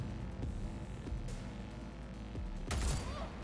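Gunfire from the video game Cyberpunk 2077, steady low rumbling shots with a louder burst near the end over a constant background hum.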